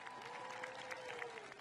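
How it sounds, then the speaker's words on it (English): Faint, distant applause from the crowd at the National Christmas Tree lighting in 2017, a short steady patter of clapping with a low tonal hum beneath. "How about a big round of applause for them?"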